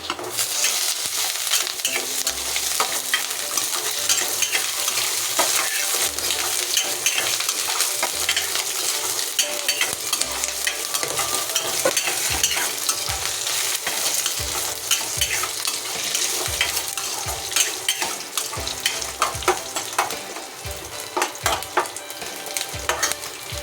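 Green chillies sizzle in hot oil in a pan for poori masala while a spoon stirs and scrapes them repeatedly, a continuous close frying hiss with irregular scraping strokes and no voices.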